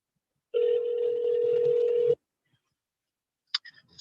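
Telephone call tone as a call goes to voicemail, one steady flat beep lasting about a second and a half, then silence and a short electronic blip, clear and isolated.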